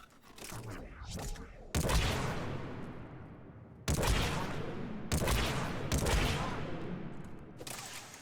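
Gunfire from a gun in Mass Effect 3: several loud, sharp blasts, each trailing into a long decaying roar, fired in separate bursts a second or two apart, close and dominant.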